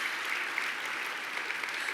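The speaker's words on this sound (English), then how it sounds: "go ahead and applaud" Steady, dense audience applause fills a charity awards gathering at a National Philanthropy Day event in Orange County, California, continuous and fairly loud throughout with no voices over it.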